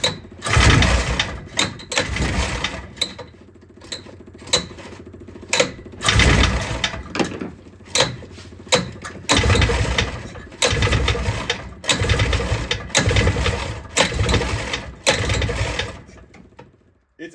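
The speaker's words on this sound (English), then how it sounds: "let's hook our battery back up and try and get this thing fired up" A repaired 6x6 ATV engine with a fuel fault is cranked repeatedly, loud rapid mechanical churning in bursts that sputter, stall and start again, close by with no one speaking.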